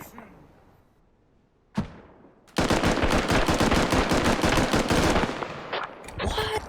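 Rapid automatic gunfire bursts loud and continuous for several seconds in a multiplayer military video game, preceded by a single sharp shot, with a short pause before more firing resumes.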